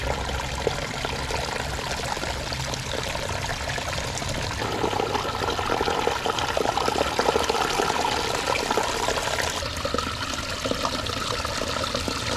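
Spring water pours and trickles steadily out of a small man-made grotto at a hot spring, a continuous close liquid rush that swells a little louder midway.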